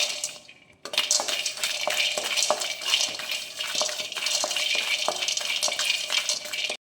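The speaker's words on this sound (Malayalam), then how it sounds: "എല്ലാ നട്ട്സും സീഡ്സും ഒരു 2 മിനിറ്റ്സ് ഇങ്ങനെ ഫ്രൈ ചെയ്യാം." Nuts and seeds, including chia seeds, being fried and stirred in a pan for a healthy laddu, with a steady sizzle and rhythmic scraping taps of the spoon against the pan.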